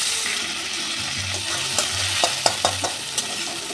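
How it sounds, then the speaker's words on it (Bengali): Washed Gobindobhog rice fries in oil with bay leaves, cardamom, cloves and cumin, giving a close, continuous sizzle with a few sharp clicks and scrapes of stirring toward the end. "এবার দিয়ে দিচ্ছি এই ধুয়ে রাখা চাল"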